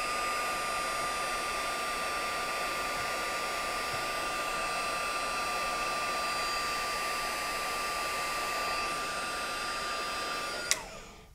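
A heat tool blows steadily and loudly, melting ultra thick embossing powder on a paper bead, a constant whooshing hiss that runs unbroken before cutting off with a click near the end.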